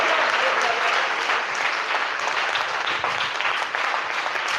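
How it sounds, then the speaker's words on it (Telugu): Steady, dense applause from a church congregation at a Friday morning healing service, many hands clapping raised overhead, loud and continuous throughout with no pauses. "చేతులు ఎత్తి గట్టిగా చప్పట్లు కొట్టి కృతజ్ఞతాస్తుతులు చెల్లిద్దాం"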